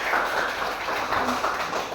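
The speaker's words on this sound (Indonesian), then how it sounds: "Tepuk tangan dulu untuk kelas 11." A class of students claps their hands in a classroom discussion session. Steady, broadband applause continues throughout the short stretch at moderate loudness.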